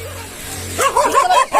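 A village dog gives a short run of yipping barks and whimpering calls, fairly close, over a faint low hum, with several quick barks packed into about a second.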